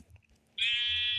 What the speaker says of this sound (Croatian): I ova ovca pravi me ludim.